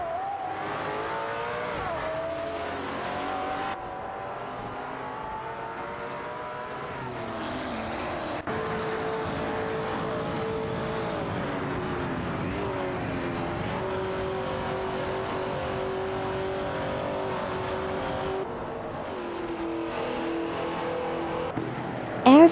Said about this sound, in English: Apophis is behind the wheel of an Aston Martin Vate Vantage 77, while Air 40 is piloting a Maserati Bora.